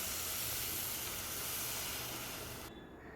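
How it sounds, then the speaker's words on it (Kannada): Water pouring into a pan for Malenadu-style rice uppittu, a steady broadband hissing rush that runs alone for nearly three seconds, then cuts off abruptly into faint background. "ಹಾಗೆ ನೀರು ಹಾಕ್ಕೋತಾ ಇದ್ದೀನಿ"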